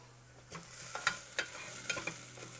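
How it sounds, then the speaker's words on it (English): Onions sizzle quietly in a pan for cauliflower potato soup, a soft steady frying hiss broken by a few crackles and stirring scrapes, with no talking. "Onions are sizzling away nicely."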